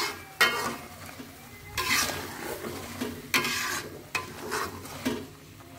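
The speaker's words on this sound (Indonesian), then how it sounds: "jangan lupa diaduk-aduk terus" Mie Aceh spice paste with fiery chili being stirred in a pan as it cooks down, several loud scraping strokes of a utensil over a low wet sizzle, no voices.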